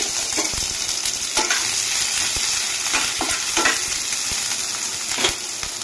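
Chopped onion and green chilli sizzle in hot oil in a home kitchen pan, a steady close frying hiss with occasional stirring scrapes and no voices.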